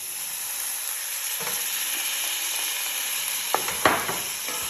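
Samosa filling of potato and green peas fries in a pan with a steady, close hiss, while a spoon scrapes and stirs through it in a few sharper strokes near the end.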